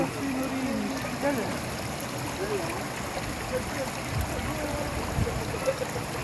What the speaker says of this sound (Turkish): Doğal kaynak suyu, Munzur doğal kaynak suyu arkadaşlar.